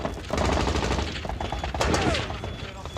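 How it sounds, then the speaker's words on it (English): Afghan soldiers fire on Taliban positions, a rapid burst of close, loud gunfire in a continuous volley with faint voices underneath. "The Afghans opened fire on the Taliban positions."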